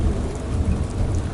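Steady rain patters outside under a low, rolling rumble of thunder, a dense and continuous wash of sound in a short burst with no voices.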